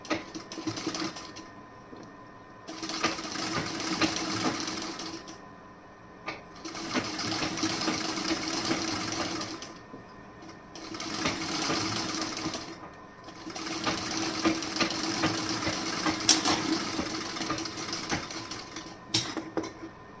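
Electric sewing machine stitching fabric trim, running in several steady bursts of a few seconds each with short pauses between, moderately loud and alone.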